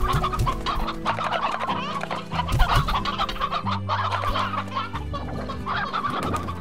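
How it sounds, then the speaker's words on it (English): Chickens in the video game Slime Rancher cluck in quick overlapping bursts, loud and close, over a steady game backdrop. "More stony chickens."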